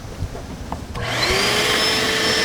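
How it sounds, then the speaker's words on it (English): A shop vacuum in a woodshop switches on after a quiet moment, its motor spinning up into a loud, steady whine and rushing hum. "You want to turn the vacuum on?"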